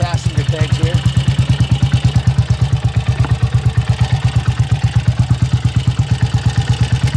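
A 1968 BSA Starfire 250 single-cylinder motorcycle engine runs steadily while ridden two up, its even, rapid thumping pulse loud and close throughout, with a brief voice near the start.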